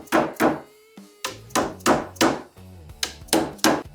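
Wooden dowels hammered into lumber: a series of about ten sharp, hard wooden knocks in an uneven rhythm, close and loud, with no talking.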